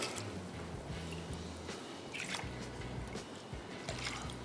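Drained, soaked lentils tipped into a cooking pot for dal makhani make a continuous wet slosh with soft squishy plops and drips, close and moderately quiet, without talking.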